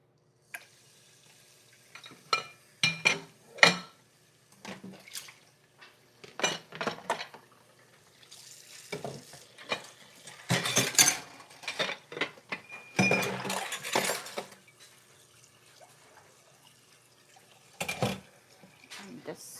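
Pans and dishes clatter and clink in a kitchen sink in scattered bursts, with running water and dripping between the knocks.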